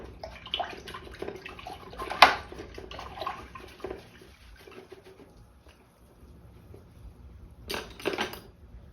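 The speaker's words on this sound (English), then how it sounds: "I'm going to rinse my brush out." A paintbrush is rinsed in a water container during a painting session, with soft swishing and splashing bursts, a sharp clink partway through and another burst of sloshing near the end.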